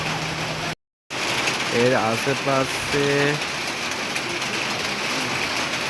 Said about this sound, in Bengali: এই জায়গাটায় এখন বৃষ্টি পড়ছে